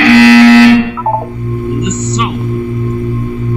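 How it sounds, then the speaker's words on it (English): In the video game Portal 2, a loud electronic test buzzer sounds first and cuts off abruptly, followed by fainter synthetic chirps over a steady low hum. "When you hear the buzzer, look up at the ceiling."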